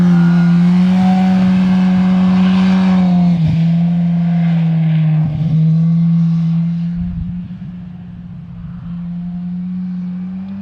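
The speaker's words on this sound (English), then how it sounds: "This week I'm testing the 2018 Kawasaki Ninja ZX-10R" Engine of a 2018 Kawasaki Ninja ZX-10R SE sport motorcycle running loud and close, a steady high-pitched drone with brief dips and rises in revs before easing slightly toward the end.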